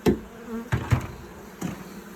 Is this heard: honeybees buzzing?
yes